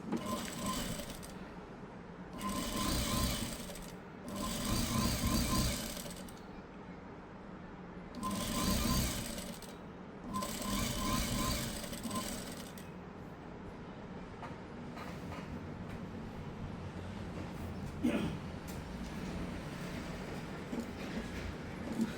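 A sewing machine stitching a blouse sleeve runs in several loud bursts of whirring, each lasting a second or two with short pauses between. A quieter, steady hum continues through the later part.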